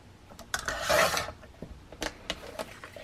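Paper being trimmed for card making gives a few short rasping cuts and scrapes, close and fairly quiet, with one longer swishing stroke near the start.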